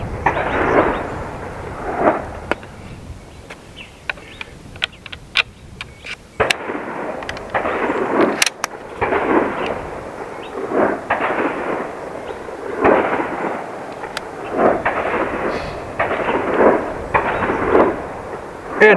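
A Seneca Dragon Claw .50 caliber PCP air rifle fires outdoors: several sharp, loud cracks stand out against a steady, gusty background rumble, with no voices.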